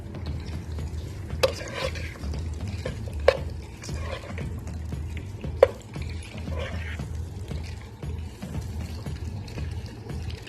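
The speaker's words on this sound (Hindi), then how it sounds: "अब इनको थोड़ी देर फ्राई कर लें।" Large cubes of tomato fry in a pan for restaurant-style chicken jalfrezi, a low, continuous sizzle with occasional stirring scrapes and a few sharp utensil clinks against the pan.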